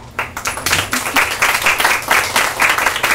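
An audience applauds at the close of a talk on journalism, steady dense clapping throughout with no voices over it.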